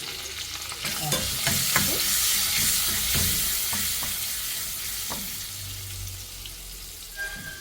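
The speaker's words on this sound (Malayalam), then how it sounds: "അതിൽ കുറച്ച് ഓയിലുണ്ട്, കറിവേപ്പില, കുറച്ച് മഞ്ഞളുണ്ട്, അതിട്ട് കുറച്ച് ഗരം മസാല അതിലേക്ക്" Curry leaves, turmeric and garam masala sizzle steadily in hot oil in a pan for a Kerala-style chicken curry, with occasional stirring clicks; the sizzle is continuous and close, and no one speaks.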